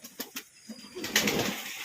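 Pigeons on a rooftop flutter and coo nearby, with a few sharp wing claps early on, then a burst of flapping and soft cooing.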